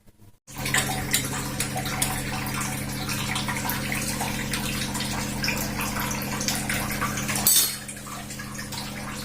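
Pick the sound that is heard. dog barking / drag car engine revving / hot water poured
hot water poured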